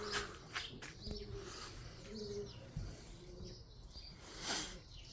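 Bozak and duman domestic pigeons coo softly in the early morning, low burbling calls scattered among a few faint chirps and some brief flutters and knocks, fairly quiet overall.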